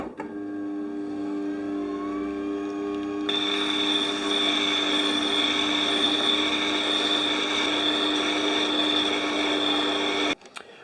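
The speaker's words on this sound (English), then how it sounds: "we're going to prepare the stone with the stone grader, and we're going to take it to 220 grit" A Scheppach Tiger 3000VS wet grinder runs steadily with a stone grader truing its stone to 220 grit, a constant whirring hum that grows louder and grittier partway through, then cuts off near the end.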